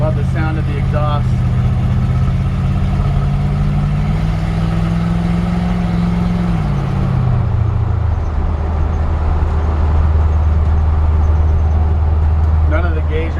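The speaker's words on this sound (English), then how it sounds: "Love the sound of the exhaust." A 1956 Ford F100 pickup truck's modified engine idles with a low, steady exhaust rumble that shifts pitch slightly before settling into a deep, continuous drone.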